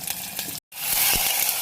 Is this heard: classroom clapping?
no